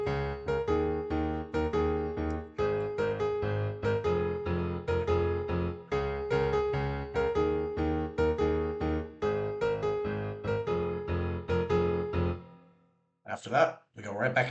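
Piano playing a song in a descending pattern for eight full measures: steady, evenly repeated chords with ringing low notes, close and loud, stopping near the end before a few brief soft sounds.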